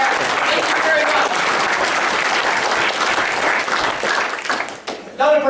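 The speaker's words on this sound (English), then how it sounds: "Let's give Art a big round of applause." Audience applause for an honoree at a government transparency event, loud sustained clapping from a room full of people, fading briefly before a voice speaks over it at the end.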